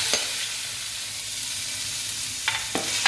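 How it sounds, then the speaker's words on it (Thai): Pork belly sizzles steadily in a hot pan, a bright continuous hiss with a few sharp pops and scraping stirs near the end. "จากนั้นเราก็มาตั้งกระทะ แล้วก็ใส่สามชั้นลงไปเจียวก่อนค่ะ"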